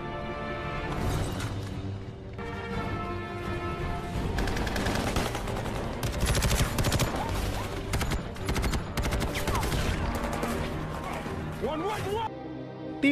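Dense gunfire from a battle scene in the action film Expendables 2, with rapid automatic bursts and crashing impacts mixed with loud music and a narrating voice over it throughout.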